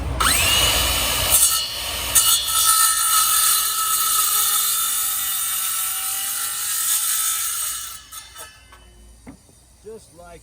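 A power saw cuts a notch in wooden stair decking to fit around a post, a loud steady buzzing cut lasting about eight seconds before trailing off into a few small knocks and rubbing sounds.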